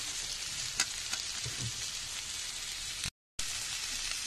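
Okra and green peas fry in a covered pan with a dense, continuous sizzle and crackle, a few small pops and clicks, and a brief moment of silence near the end.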